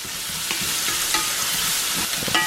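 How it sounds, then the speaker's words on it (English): Jalapeno and garlic fry in undrained bacon grease in a cast iron skillet, giving a loud, constant sizzle with crackling pops and a few stirring scrapes, close up and without speech. "I'm gonna go ahead and throw the jalapeno and the garlic in there"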